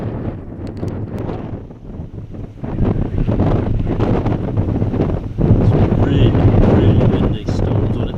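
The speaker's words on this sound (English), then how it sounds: "Really windy. Storm's on its way." Strong gusting wind before a storm near Murchison Falls, Uganda, roaring and buffeting continuously across the microphone and building louder in the second half.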